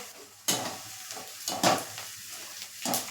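Hot oil hisses and crackles in bursts as chakli dough pieces made from poha go in, with the sizzle swelling and fading between additions.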